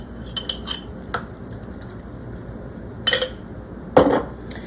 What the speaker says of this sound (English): So I'm emptying the jar.